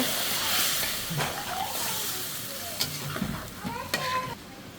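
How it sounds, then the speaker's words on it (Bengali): Capsicum and tomato stirred into spices frying in a pan for a rohu fish dish, continuous hissing sizzle with several sharp scraping clatters of the spoon against the pan. "এখন আমার ক্যাপসিকাম আর টমেটোটা হালকা একটু আমি দুইটা লাড়া দিয়ে নিচ্ছি মশলার সাথে"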